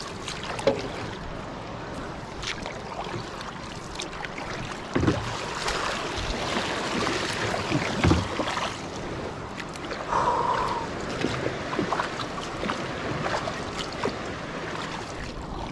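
Big waves hitting a small fishing boat at sea, heard as churning water and hull slaps under wind, with heavier thumps near the middle and a faint brief sound partway through.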